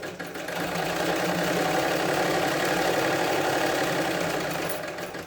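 A hand-operated sewing machine stitches a sari border with a steady, continuous mechanical whirr, loud and close, running without pause and unbroken by voices.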